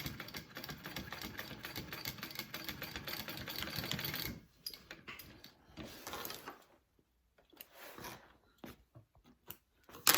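A sewing machine runs in a fast continuous burst while stitching a row on a fabric shoulder bag, then slows into short stop-start runs and handling noises before falling quiet.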